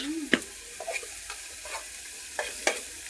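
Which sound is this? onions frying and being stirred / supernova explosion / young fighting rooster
onions frying and being stirred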